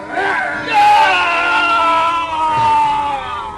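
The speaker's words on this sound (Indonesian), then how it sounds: "orang itu masih bisa menjerit" A man screams in an audio drama, one loud, strained wailing cry that stretches across the whole moment before fading slightly at the end.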